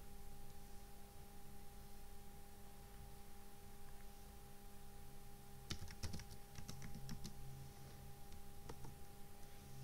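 Password being typed on a computer keyboard during a Linux database install, a short burst of several quick key clicks midway, with a few more taps near the end, over a steady electrical hum.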